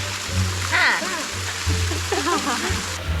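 A waterfall at a forest campsite, a steady hissing wash of falling water much like a tap running into a basin, close and continuous beneath people talking.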